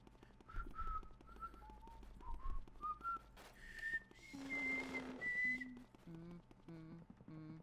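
Luigi, the cartoon plumber in the haunted-mansion game Luigi's Mansion, whistles a wavering tune, clear sustained notes rising and falling over a soft game music bed, with brief pauses between phrases.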